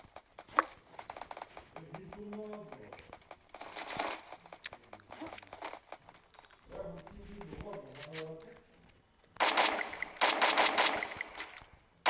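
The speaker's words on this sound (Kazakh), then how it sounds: "Адамдар атысып атыр" Gunfire from a video game comes in scattered shots, then a louder cluster of rapid bursts near the end, mixed with ongoing talk and game sounds.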